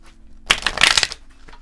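Tarot cards shuffled close at hand, with one quick crisp riffling burst lasting under a second and no talking around it.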